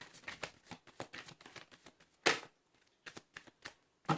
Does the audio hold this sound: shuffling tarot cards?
yes